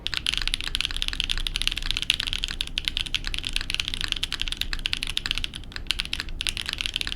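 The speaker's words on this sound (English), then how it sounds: "this is the Void keyboard" Rapid, continuous typing on a Void 65% top-mount keyboard with O-ring mounting, dense clacky keystrokes in a steady stream, close and clear with no talking.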